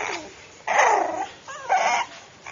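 Young puppies whimper and whine close by in a few rising, squeaky bursts, with soft growly yips between them and no talking.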